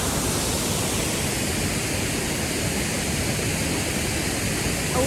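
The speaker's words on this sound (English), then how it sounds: "So this one is Russell Falls." Russell Falls in Mt Field National Park roars as a steady, dense wash of falling water, loud and close, with no break across the whole stretch.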